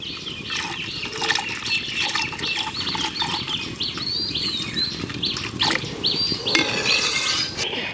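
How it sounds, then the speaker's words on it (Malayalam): Milk pours steadily into a cooking pot with a soft, continuous splashing patter, close by, with a faint background hum and no talking. "നമുക്കിതിലോട്ട് പാൽ ഒഴിച്ചു കൊടുക്കുക"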